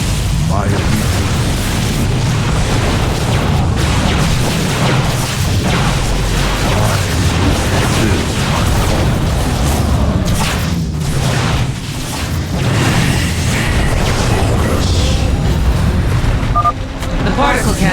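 Particle cannons exploding in the StarCraft II: Legacy of the Void campaign, a dense, continuous run of booming blasts and crashes mixed with battle noise, loud throughout, with voices talking over it.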